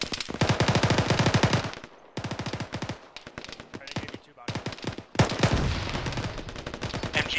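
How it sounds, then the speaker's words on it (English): A heavy gun firing in a war video game, loud and close, in long rapid bursts of regular thudding shots separated by short pauses. "Got audio on some sort of heavy gun northwest."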